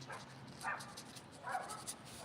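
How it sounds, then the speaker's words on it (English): A neighbor's dog barks twice outdoors at a distance, two faint, spaced yelps rising over a quiet background during outdoor watercolor painting. "oh, the neighbor's dog sees him"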